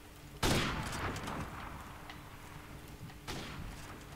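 Gunfire from the video game Modern Warfare Remastered during a 1v1 match: two loud shots, the first a sharp burst with a decaying tail, the second about three seconds later.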